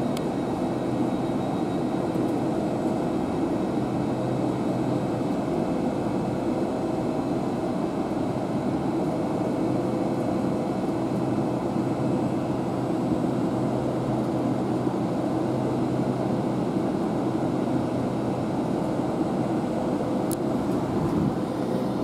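A GWR Class 800 train departing Swindon station for Bristol Temple Meads gives a steady, continuous rumbling drone for over twenty seconds, fairly loud and unchanging, with no voices.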